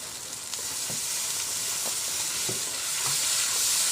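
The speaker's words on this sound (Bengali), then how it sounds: "আবার আমি সামান্য একটু জল দিয়ে খুব ভালো করে কষিয়ে নেব" Ginger garlic paste masala frying with onions and a splash of water, a loud, dense sizzling hiss that swells toward the end, with soft periodic stirring strokes and no talking.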